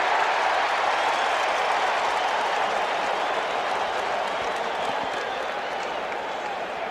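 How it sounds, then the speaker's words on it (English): At Shea Stadium during a World Series game between the Red Sox and Mets, a festive crowd cheers and applauds steadily as the batter awaits the first pitch, a dense, sustained roar. "It is a festive, highly enthusiastic crowd as Wade Boggs awaits the first pitch."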